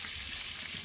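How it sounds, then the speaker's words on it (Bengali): Potatoes frying in a pan give a steady, soft sizzle, continuous and fairly faint through the brief moment. "আর এইদিকে আলুটা ভাজা হচ্ছে"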